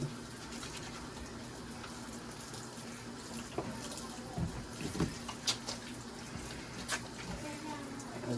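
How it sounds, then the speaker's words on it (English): Tap water runs steadily over freshly caught bluegill being washed, a constant close rush with a few scattered splashes and knocks toward the end. "Wash the fish down."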